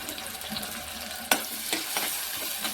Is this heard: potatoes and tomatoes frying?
yes